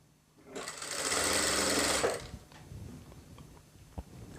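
A sewing machine stitches the side seam of a kameez in one steady, loud burst of about a second and a half, then stops, leaving quieter handling noise.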